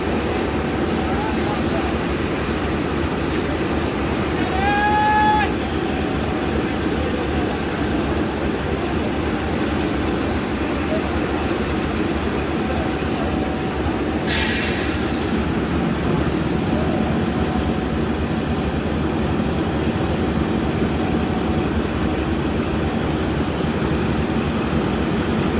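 A locomotive is being attached to the Badar Express train. A steady, loud rumble runs throughout, with a brief whistle-like squeal around five seconds and a sharp high screech around fourteen seconds.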